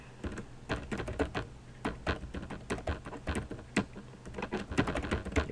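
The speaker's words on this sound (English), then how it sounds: "Type in your email address." Rapid, irregular clatter of fingers typing on a computer keyboard, close and fairly loud, with keystrokes tumbling in quick bursts for several seconds and no voice over them.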